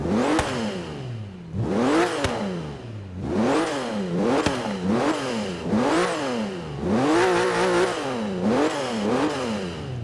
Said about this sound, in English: it's one of the most throatiest flat six engines that I've heard from a Porsche